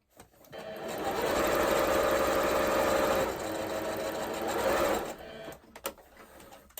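A sewing machine stitches a fabric shopping bag with a close, steady rapid whir for several seconds, briefly easing as it reverses the stitch, then stopping with a few small handling clicks.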